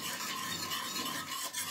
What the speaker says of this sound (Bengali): এইবার সব উপকরণ একসাথে সুন্দর করে আমি মিশিয়ে নেব